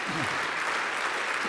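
Concert audience at a Christmas big band show applauding, a dense, bright wash of clapping that stays full and even throughout the short stretch, with a brief voice murmur near the start.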